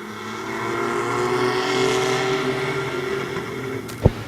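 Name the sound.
mini trucks racing at Midvale Speedway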